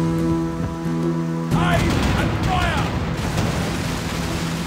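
In the pirate video game The Pirate: Plague of the Dead, a ship's cannon fires with a sudden loud boom, followed by a sustained heavy rumble as a voice talks over the battle noise.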